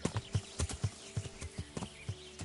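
Horse hooves clip-clop at a steady trotting rhythm in the medieval game Kingdom Come: Deliverance, close and clear with no talk over them.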